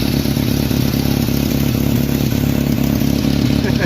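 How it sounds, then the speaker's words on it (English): A 1986 Jeep Comanche with a 2.5L engine idles loud and close, a steady, even rumble with a fast regular pulse and faint clatter, running smoothly throughout. "Now that this engine runs perfectly smooth"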